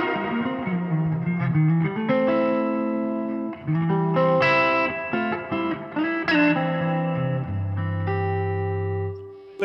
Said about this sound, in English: you turn the reverb up to about 7 and hide all the mistakes